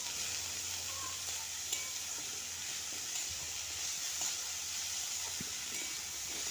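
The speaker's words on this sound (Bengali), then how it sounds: "তারপর সেই সবগুলিকে একসাথে আরও কিছুক্ষণের জন্য একটু নাড়াচাড়া করে নেব।" Cabbage, carrot, tomato, capsicum, onion and green chilli frying in a pan, a steady close sizzle and hiss with faint scrapes of stirring, no voices.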